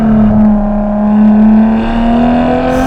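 A Ferrari F12 TDF's 6.3-litre V12 engine revs high and steady, a smooth rising whine climbing in pitch, loud and close with no talking.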